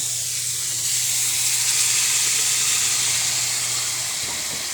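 Mung beans cooking in a pot with pork, squash, banana heart and malunggay, giving a steady close hiss and sizzle with a low hum underneath that drops away near the end.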